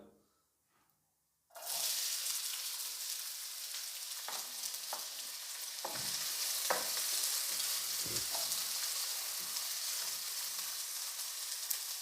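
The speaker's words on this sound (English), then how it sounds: "Add oil first in order to saute the onion." Onion hits hot oil in a pan with a sudden loud sizzle that continues steadily, while scraping stirs and clinks of a utensil punctuate the frying up close.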